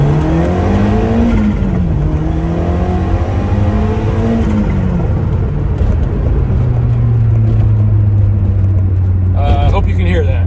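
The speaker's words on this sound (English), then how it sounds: "I'm gonna give it some gas here." A 1990 Lotus Esprit SE turbocharged sports car accelerating from inside the cabin, its engine note climbing steadily and loud throughout, with a quick shift between first and second gear and a voice speaking over the drone.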